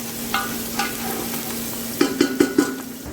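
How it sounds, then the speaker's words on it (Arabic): Onion and garlic sauté in a pot with a continuous sizzle, broken by a few light scrapes and a quick run of sharp spoon taps against the pot near the end. "بشوح البصله كده، وبعد كده بحط التومه."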